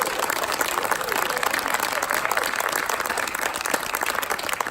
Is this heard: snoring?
no